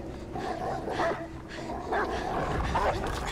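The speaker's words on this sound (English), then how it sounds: "Okay, I hate dogs in video games." Dogs bark and yip in the video game Beyond: Two Souls, several sharp barks and whimpers scattered over game sounds while a person talks over them.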